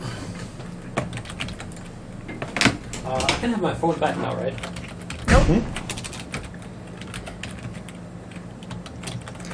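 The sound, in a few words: typing on a computer keyboard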